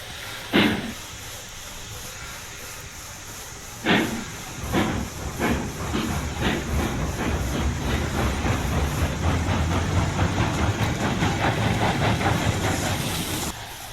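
A steam locomotive in the train-simulation game Railroads Online sits idling, giving off a steady, loud hiss with a few sharper chuffs and clanks near the start and no talking.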